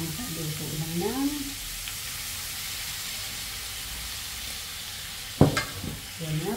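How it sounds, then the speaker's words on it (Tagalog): Vegetables sauté in a pan with sardines, a steady sizzle and hiss running throughout with a clatter of stirring near the end, while someone talks over it at the start. "yan na po at igisin natin"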